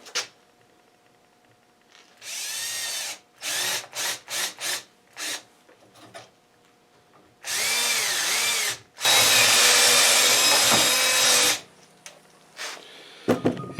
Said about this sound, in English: I'm going to get a big drill, see if I can drill down into that.